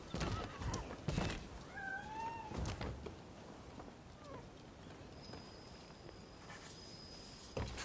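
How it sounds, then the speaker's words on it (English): A cat in the video game Rise of the Ronin gives a couple of short, clear meows early on over quiet game ambience, followed by a faint later mew. "Why is that cat up there?"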